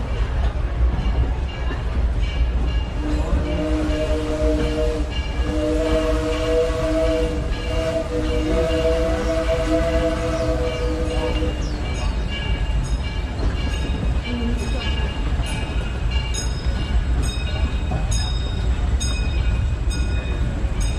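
The Disneyland steam train runs along its rails with a loud, constant low rumble and clatter, a sustained whistle-like tone sounding midway and faint metallic squeals later.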